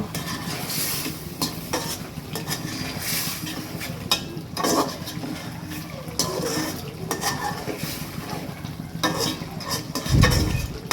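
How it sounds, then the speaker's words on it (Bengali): Fish added to a pan of cooking food and stirred, with steady sizzling and frying, scraping utensil strokes against the pan and occasional clinks, close and continuous throughout. "এখন এখানে সে বাজে মাছগুলো দিয়ে দিল"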